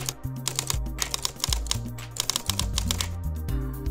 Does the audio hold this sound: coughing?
no